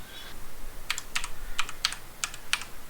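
Close typing on a computer keyboard, a few quick bursts of crisp key clicks over a quiet room hum.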